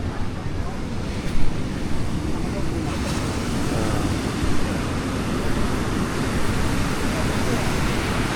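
Ocean surf and wind at Canggu beach in Bali roar steadily up close, with wind buffeting the microphone throughout.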